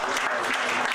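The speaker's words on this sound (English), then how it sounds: "Give her a round of applause again, please." A brief burst of dense clapping from an audience, loud and continuous for about a second.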